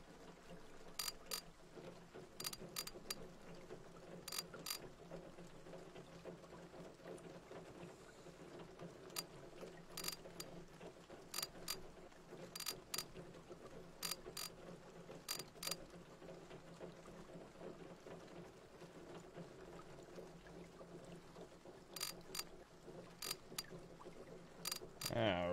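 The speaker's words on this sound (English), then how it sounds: "I'm just gonna take the top of the motor apart." Ratchet wrench working on the top of a junkyard truck motor, repeated short bursts of quick clicking spaced through a quiet stretch, faint and close, over low background hum.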